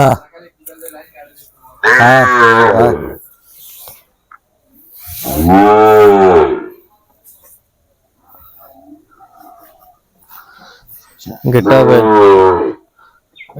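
Sahiwal-breed cattle at a calf market give three long, loud, close moos separated by quiet gaps.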